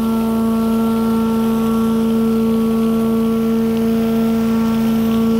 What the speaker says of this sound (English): it's going to start discharging water in our hose over here